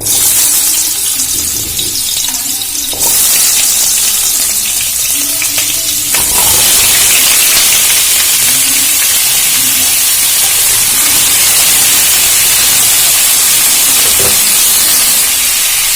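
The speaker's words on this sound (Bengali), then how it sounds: "তেলটা গরম হয়ে গেছে, আমি পেঁপে আর আলুটা দিয়ে ভেজে নেব।" Papaya and potato pieces fry in hot white oil in a pan, giving a loud, continuous sizzle and hiss with occasional bursts of crackling and stirring noises, no voices.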